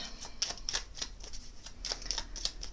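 Oracle cards are shuffled by hand in a quiet room, a series of soft, papery riffles and flicks falling in uneven bursts, close and fairly faint.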